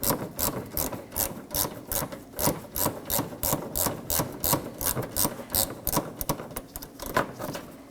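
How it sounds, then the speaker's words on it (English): A 10mm bolt being worked out of the fender liner area of a 2015-2023 Nissan Maxima with a hand ratchet, fast rhythmic clicking strokes repeating steadily and close for several seconds, no voices. "Now let's remove that bolt."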